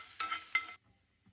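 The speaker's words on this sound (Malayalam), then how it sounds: "അതുപോലെ ഒരു 4-5 വെളുത്തുള്ളിയും കൂടി ഒന്ന് ആഡ് ചെയ്ത് കൊടുത്ത് നമുക്കൊരു 15 സെക്കൻഡ് ഒന്ന് വഴറ്റിയെടുക്കാം." Four or five garlic cloves frying briefly in hot oil in a pan: two short bursts of bright sizzling, close and fairly quiet, then near silence.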